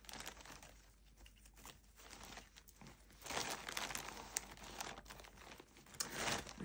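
Close, soft crinkling and rustling as hands rummage through a plastic bag of lace for a lacey junk journal, irregular bursts growing busier, with no speech.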